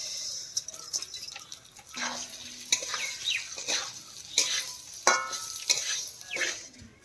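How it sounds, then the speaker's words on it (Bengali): Rice soaked with spices frying in hot white oil with bay leaf, cinnamon, cardamom, cashews and raisins in a pan, a steady sizzle broken by repeated scraping stirs of a spoon, close and fairly loud. "চালটাকে ভালো করে ভাজতে হবে যতক্ষণ না সাদা হয়ে গেছে"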